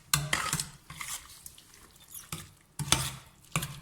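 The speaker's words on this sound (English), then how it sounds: "Quick stir around." Pasta in tomato sauce being stirred in a pot, giving a few soft scraping, wet clinks of a utensil in short bursts, close and fairly quiet with no talking.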